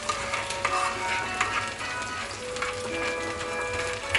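Brown butter and garlic sizzle steadily in a pan, a dense close crackle and hiss with small pops, continuous and fairly loud throughout.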